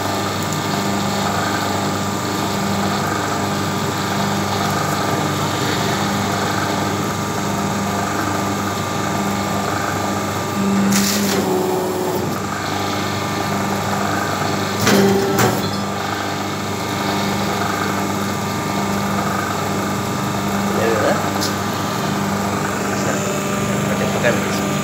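A semi-automatic paper plate making machine for buffet plates runs with a steady mechanical motor hum and whine, broken by a few sharp pressing clunks, while people talk nearby.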